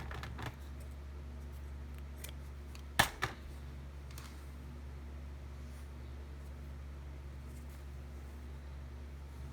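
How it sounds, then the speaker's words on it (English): Scissors snip through knitting yarn while binding off toe-up socks: one sharp close cut followed by a softer second snip, faint and alone over a quiet room hum. "I'm going to cut my yarn."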